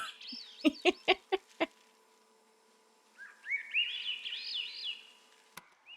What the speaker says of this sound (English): They're birds. Sweet bird noises.